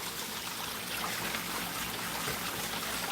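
Water trickles steadily behind a garden pond waterfall, seeping back into a crack in the rock, a continuous close-up wash of running water with no voices.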